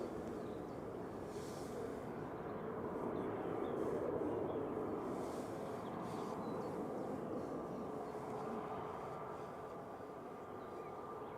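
An airliner rolls down the runway at Manchester Airport, a steady broadband roar of engines and rumble at moderate distance, swelling slightly midway and holding for about eleven seconds.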